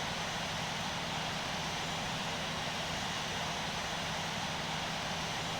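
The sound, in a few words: Airbus A320 taking off in Infinite Flight simulator game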